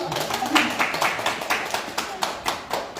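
Audience clapping to welcome an art journalist at a Chungbuk gallery opening exhibition, moderate and sparse, with distinct individual claps in an uneven rhythm and some voices murmuring underneath.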